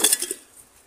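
Old ceramic dishware clinking at an abandoned farmhouse in the backcountry, a few bright close clinks in quick succession that fade into quiet.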